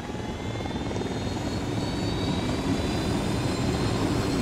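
An enemy Unidad helicopter approaches in the shooter game Ghost Recon Wildlands, its rotor and engine making a loud, steady whirring drone throughout.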